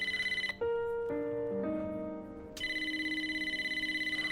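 A phone rings inside the video game Wuthering Waves: a bright electronic ringtone with pulsing repeats and a short descending melody in the middle, loud and clear with no talk.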